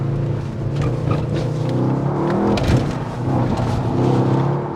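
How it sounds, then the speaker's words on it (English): A Mercedes GT63s AMG with a 640-horsepower engine revving hard and accelerating, a loud, deep, continuous engine roar that swells and eases in waves, close up with no talking. "Engine's alive, no engine lights. Sounds like a bloody beast."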